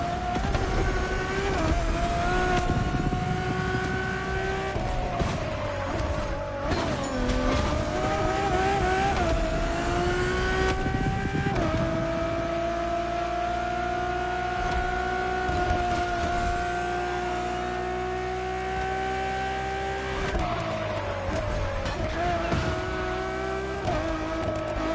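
A Ferrari road-legal Formula One car in The Crew Motorfest screams at high revs throughout, its engine note climbing and dropping sharply between gear changes, loud and close with no talking.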